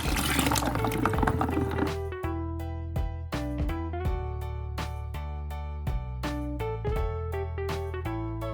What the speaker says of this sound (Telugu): ఇందులో ఒక చెంబడు వాటర్ పోసుకోవాలి.